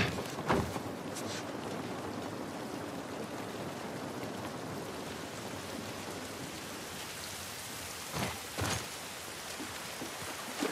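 Steady rain pours down in an outdoor scene of The Last of Us Part 1 video game, a continuous broadband hiss with a few louder splashes and drips near the start and again later, no talk.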